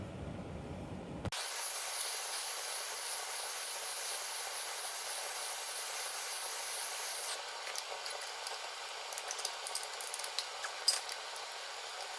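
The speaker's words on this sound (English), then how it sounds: "So I'm gonna heat it up again, see if we can get some more movement out of it." A torch roars steadily as it heats a seized transmission nut on a Case 310 dozer under restoration, a continuous loud hissing rush with faint crackles toward the end.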